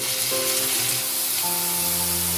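Small diced potatoes fry in oil in a pan, giving off a continuous, close, even sizzle with a faint background hum.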